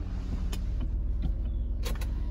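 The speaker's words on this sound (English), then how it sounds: "Let's just see how the top goes down for 2 seconds." Power convertible top of a 2000 Chrysler Sebring JXI lowering, a steady electric motor whine with faint mechanical clicks and creaks, close and alone.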